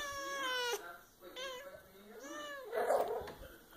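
A cat meows several times up close, with long wavering cries that rise and fall, the last one louder and rougher.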